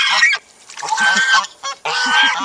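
Chinese goose honking loudly and harshly while charging, a close series of repeated nasal honks in three bursts with brief pauses, no talking over them.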